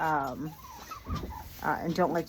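Several farm turkeys gobble close by in rapid, warbling bursts, with a steady hiss of winter-storm wind or rain in the background.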